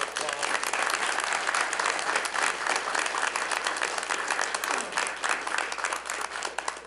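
A round of applause fills a city council meeting chamber, dense and continuous clapping throughout, honouring a young person being recognised, with faint voices mixed in.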